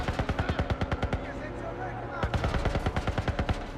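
Automatic gunfire in The Last of Us: two strings of rapid, evenly spaced loud shots, close and punchy, separated by a short lull.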